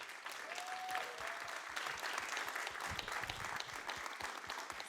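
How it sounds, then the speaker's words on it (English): Applause for the scriptwriters at a Wexford gathering, a fairly faint but continuous patter of many hands, with a brief whistle-like tone near the start and a few louder claps mixed in. "Could we please give a round of applause to the writers?"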